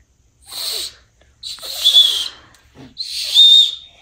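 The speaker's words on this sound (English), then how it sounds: "I just like whistling in it." Whistling into a toy construction vehicle gives three breathy, hollow whistle bursts, each about a second long, separated by short pauses. The sound is close and fairly loud, with no talking.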